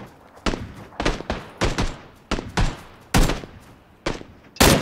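Incoming video game gunfire aimed at the player during a squad battle, a steady string of close, loud single shots and short pairs, each with a booming thud and a brief tail, about two per second.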